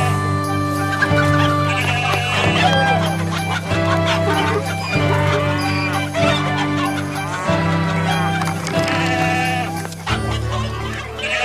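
Chickens cluck alongside bleating sheep or goats at a busy animal market in a temple courtyard, a continuous loud mix of animal calls.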